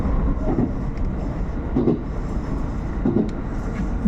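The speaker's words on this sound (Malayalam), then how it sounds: "നല്ല ശബ്ദമുണ്ട് കേട്ടോ ട്രെയിൻ പോകുമ്പോൾ ചില സ്ഥലത്തൊക്കെ" A broad-gauge train in Kochi, Japan, rolling along rails with a continuous low rumble and periodic rhythmic clacks of wheels over joints.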